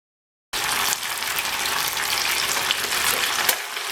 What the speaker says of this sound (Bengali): আমি মাছগুলোকে হালকা করে এই তেলের মধ্যে ভেজে নেব